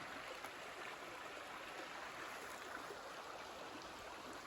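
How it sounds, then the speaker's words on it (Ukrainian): A clear, shallow forest stream flows steadily among stones, giving a continuous close murmur and trickle with no breaks; the level stays even throughout and no one speaks. "Біля водички тут водичка прозора і сумить."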